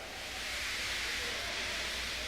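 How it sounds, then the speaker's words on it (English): A steam locomotive lets off steam in a weak, steady hiss that stays even and unbroken throughout, with no other sounds on top. "He just let off steam feebly."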